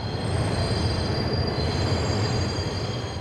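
A New York subway train running, a steady loud rumble of wheels on rail with faint high squealing tones held throughout, no voices.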